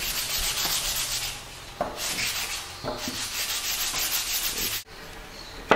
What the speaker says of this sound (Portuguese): e vai lixando essa madeira, né? Ela vai. Aí depois a gente pode passar uma lixa para tirar toda essa